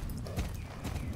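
Horse hooves clip-clop steadily while a horse is ridden in the video game Star Stable, a short, even run of hoof beats at moderate loudness with no talking.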